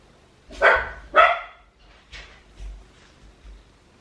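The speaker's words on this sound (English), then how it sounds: "but it's probably the dog." Two sharp, loud dog barks in quick succession, followed by a few quieter, more distant yaps trailing off.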